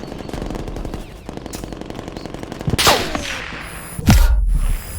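Rapid gunfire bursts from a hostile sentry turret in Call of Duty Cold War, with steady rattling shots through the first seconds, then two heavier bangs near the end amid game noise.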